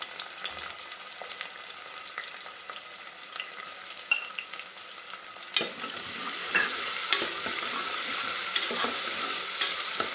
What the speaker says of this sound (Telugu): ఈ గోల్డెన్ బ్రౌన్ కలర్కి వచ్చే వరకు ఫ్రై చేసుకోవాలి.